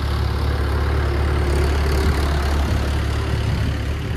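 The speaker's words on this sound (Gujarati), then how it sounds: "વહી ગયું ટ્રેક્ટર, હવે રસ્તો ક્લિયર." A tractor on a narrow village road, its heavy engine rumbling low and steady at close range throughout, with no voices over it.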